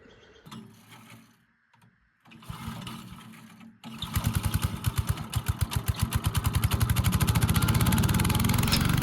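A wood chipper starts with sputtering, uneven bursts, then catches and runs steadily, a loud rapid mechanical chugging that builds in strength and holds at a constant fast rhythm, with no voices over it.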